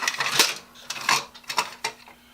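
Mixed metal screws, sizes 10-32 and 8-32, handled and sorted by hand in a workshop, giving close bright jingling and clinking in several quick bursts, with no voices.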